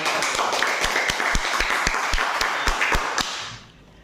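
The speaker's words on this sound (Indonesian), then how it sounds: "Give the applause dulu, tepuk tangan dulu" A primary school class claps together in a classroom, a short burst of applause with several distinct sharp claps standing out, fading away toward the end.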